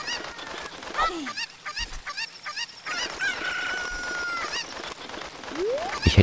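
Chicken clucks and squawks from the video game Ocarina of Time, several sharp bird calls and honking cries scattered across a few seconds over game background sounds.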